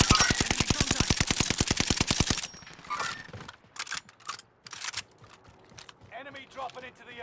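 Enemy gunfire in a video game opens as a fast, evenly spaced automatic burst for about two seconds, then breaks into scattered quieter shots and clicks.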